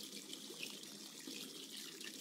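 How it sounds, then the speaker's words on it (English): Hot water runs steadily into a bathtub in a video game, a soft continuous splashing hiss at low volume with no talk. "I'll put some more hot water in."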